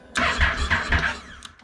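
A Honda NC750X DCT motorcycle engine cranks and tries to start, a brief close mechanical churn lasting about a second before fading, with no talk over it.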